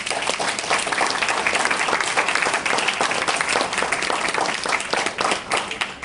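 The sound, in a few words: students applauding at dinner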